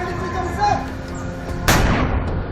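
A single sharp gunshot cracks out during Indian Army commando training, fired as the signal to jump into the water, loud and close against steady outdoor rumble, with a trailing echo.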